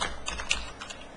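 Quick run of computer keyboard keystrokes close by, a brief burst of soft clicking taps lasting about a second.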